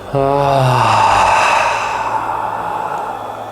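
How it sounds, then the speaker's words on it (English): Vigorous breathing exercise: a loud, close out-breath voiced as a long sighing groan that slides down in pitch and then trails off into airy breath. "So there's some power on the in-breath, some sound on the out-breath."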